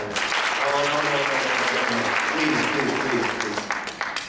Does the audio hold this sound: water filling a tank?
no